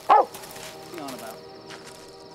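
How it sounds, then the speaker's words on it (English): Dogs bark during a police and army manhunt in England's Lake District in wartime: one sharp, loud bark at the start, then fainter whimpering and rustling noise. "resounded with the barking of dogs"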